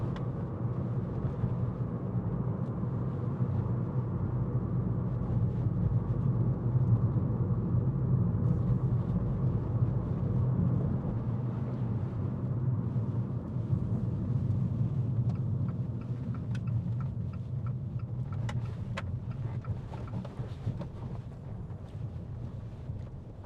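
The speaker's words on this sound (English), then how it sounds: "The sound of the engine." Abarth 595 1.4 T-Jet Turismo engine running steadily from inside the car on a test drive, a low continuous drone with road and wind noise, moderately quiet and without talk.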